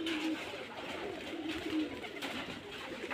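Rajshahi Giribaz pigeons cooing softly in Charghat, Rajshahi, low repeated coos over a faint, steady background hiss, fairly quiet and without speech.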